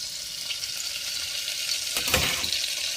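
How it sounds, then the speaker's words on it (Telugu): Paneer pieces frying in butter and oil for paneer rice, a steady close sizzle running throughout, with a brief louder stirring burst near the end. "పన్నీర్ రైస్కి ముక్కలన్నీ వేయించేసుకుందామండి."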